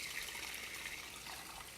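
Cold tap water runs steadily into a cooking pot to cool cooked chicken, making a continuous hissing pour that is close and even throughout, with no voices.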